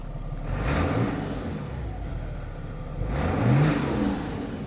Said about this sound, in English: We're gonna hear the exhausts.